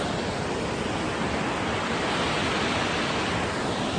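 Burgess Falls roars as a steady, dense rush of falling water, loud and unbroken throughout with no voices.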